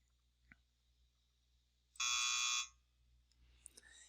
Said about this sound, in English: At the end of the test, you'll hear a big buzzer